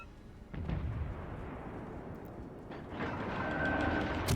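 Ship guns firing during a naval battle in the World of Warships Legends game, with heavy booming blasts at the start and again near the end over a continuous low rumble, with no talking.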